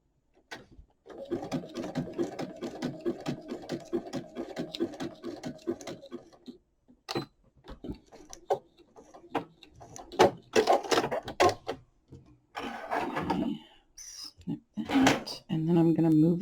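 A sewing machine stitches napkin scraps onto journaling cards made from altered playing cards, running in a steady rapid patter for about five seconds, then stopping for clicks, handling knocks and a voice talking nearby.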